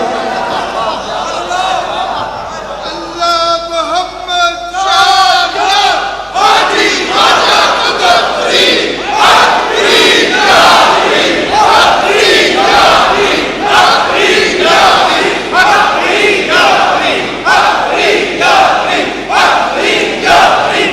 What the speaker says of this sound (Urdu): داتا کی بارگاہ میں بابا کے نعرے لگ رہے ہیں